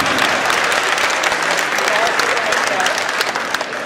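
A crowd claps at a Hindi comedic poetry event on stage, a loud, sustained spatter of many hands lasting the whole stretch, with speech heard over the clapping.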